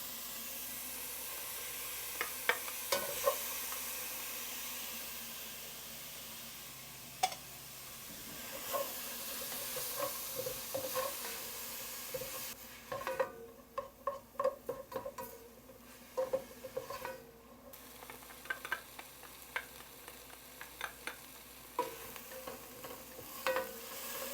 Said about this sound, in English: I'm just going to continue to saute this for another minute.